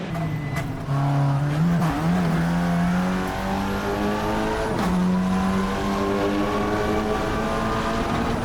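TCR race car engine at Pau-Ville street circuit in Assetto Corsa, a loud, close, sustained drone that shifts pitch as revs change, with a few brief tyre-squeal moments as the rear tyres lock.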